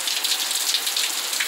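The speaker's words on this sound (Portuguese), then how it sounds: "muita chuva mesmo, e a previsão para a noite toda." Heavy night rain pours down steadily in Joaquim Gomes, Alagoas, a dense even hiss of drops beating on surfaces with no voices.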